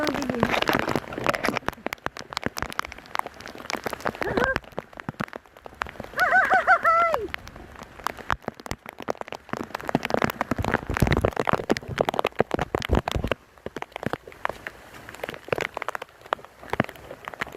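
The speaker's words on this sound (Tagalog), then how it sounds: "Lakas ng ulan" Heavy rain at a windy headland, a dense constant patter and rush of drops with gusty wind noise, joined by brief cooing bird calls and short bursts of voices.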